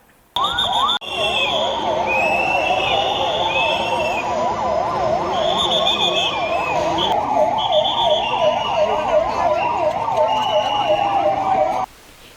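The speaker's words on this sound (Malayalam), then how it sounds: "എയർ വാണിംഗ് ലഭിച്ചതോടെ ജില്ലാ ആസ്ഥാനങ്ങളിൽ സൈറൺ മുഴങ്ങി" A loud air raid warning siren wails continuously during a mock drill, its pitch rising and falling in steady cycles, layered with another siren tone before it cuts off abruptly.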